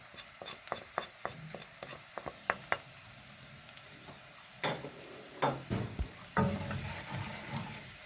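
Liver with spices frying in a pan for a wet fry: a low sizzle under quick taps of the utensil at first, then heavier scraping stir strokes, close up, with no voices.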